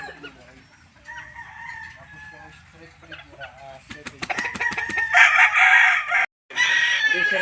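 Bullstag gamefowl roosters crowing at a gamefowl farm, several loud overlapping crows from nearby birds with clucks and brief clatter, a voice speaking early on.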